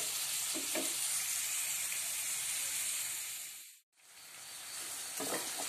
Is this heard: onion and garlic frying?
yes